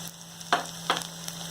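Garlic frying in a pan while being stirred, a close sizzle broken by two or three quick scraping strokes of a spoon over a steady hiss, no voices.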